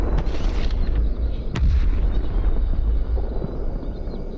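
Explosions boom in the video game Stalker Anomaly, a heavy rumbling barrage with a sharp blast near the middle, continuous low thunder rolling under and after it.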